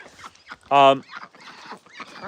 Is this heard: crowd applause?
no